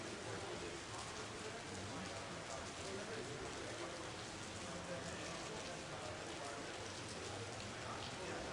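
Heavy rain pours down in a steady, loud, unbroken hiss that fills the whole stretch without letup.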